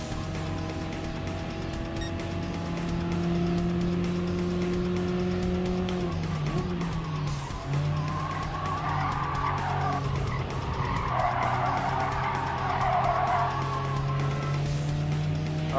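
Mazda MX-5 race cars in a Gran Turismo Sport one-make daily race: a steady engine drone with tires squealing as the cars slide through turns, the engine pitch dipping and climbing again, loud and close.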